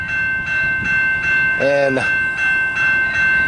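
An Amtrak Wolverine passenger train with two engines arrives at the Battle Creek station, sending steady loud rail rumble under a repeating bell, with a brief horn-like tone in the middle and a voice speaking briefly.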